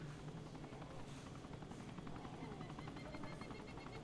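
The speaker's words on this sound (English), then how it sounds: "I could put like 3 shots into the main rotor and that helicopter would die." A helicopter in the video game DayZ flies overhead with a continuous, faint rotor thump and engine whine that hold steady and quiet throughout.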